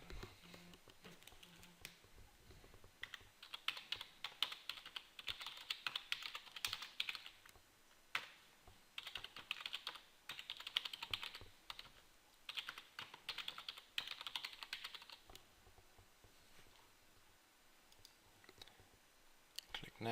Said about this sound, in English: And now I just can type in my name.